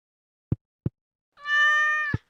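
A pet cat in Stardew Valley gives one clear, drawn-out game meow, set between sparse soft thuds of footsteps or tool taps against an otherwise silent background.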